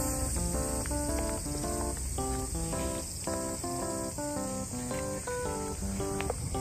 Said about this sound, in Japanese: セミの鳴き声がすごく いい感じで 響いております。